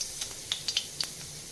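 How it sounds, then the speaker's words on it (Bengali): Sliced onions frying in oil for a poppy-seed fish curry: a steady faint hiss broken by scattered crisp pops and spits, close by with no voices. "পেঁয়াজটা ভেজে নেব।"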